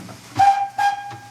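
The steam whistle of a restored steam locomotive gives two short, loud blasts in quick succession, close by, with no one speaking.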